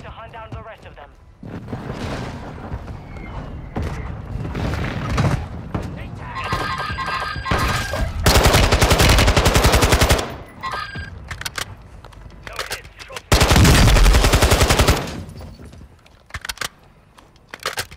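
Heavy sustained gunfire and barrages from a called-in fire mission in Call of Duty: Modern Warfare II, loud and close, with dense bursts alternating with quieter stretches and scattered single shots, while in-game voices talk over parts of it.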